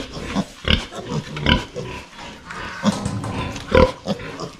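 Six pigs on a rural provincial farm grunt and snort up close, with repeated short bursts and oinks at uneven intervals over a few seconds.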